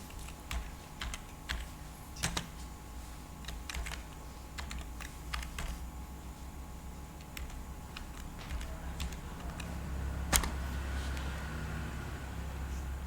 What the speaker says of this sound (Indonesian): Sini saya harus mengetik ping.